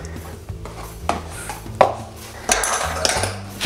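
Cream is stirred into a dessert mixture in a bowl, with a spoon or whisk scraping and clinking against the bowl in irregular strokes and knocks, close up and fairly loud, with no talking.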